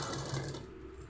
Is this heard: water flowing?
no